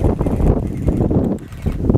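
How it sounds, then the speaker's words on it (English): Wind buffeting an outdoor microphone on a gusty day while electric water pistols are tried out, a loud low rumbling roar that holds steady, dips briefly, then surges again with no voices. "It's very windy today"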